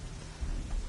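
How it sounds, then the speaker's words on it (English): Rain and a low thunder rumble in the Horizon Zero Dawn video game, a dense steady hiss of rainfall over a deep rolling boom that swells midway, with no talk. "I would like this rain to persist"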